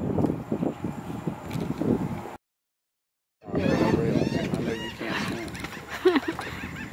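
Several seagull calls ring out over a noisy outdoor waterside scene in Calabash, North Carolina, with people talking nearby, after a brief moment of silence.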